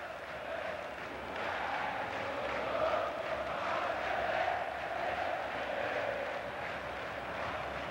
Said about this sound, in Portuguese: a torcida do Botafogo não para de cantar um só instante